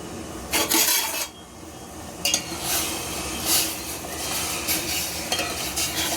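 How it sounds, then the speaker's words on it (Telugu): Sugar syrup for gulab jamun bubbles in a pot on a gas stove, a low simmering fizz broken by bursts of metal spoon scraping and stirring against the pan. "మరుగుతున్న షీరా చూడండి."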